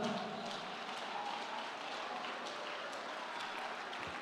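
Church congregation applauding during a sermon, a steady, fairly faint wash of many hands clapping that holds evenly throughout.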